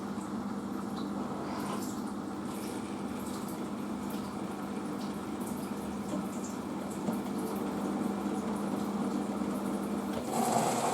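A washing machine runs into its rinse cycle, giving a steady, even mechanical hum with a faint watery churn underneath. The sound holds constant throughout, with a slight rise near the end.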